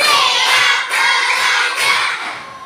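A class of fourth-grade schoolchildren in an Indonesian primary classroom shout together in unison, loud bursts of chanting voices with faint clapping mixed in.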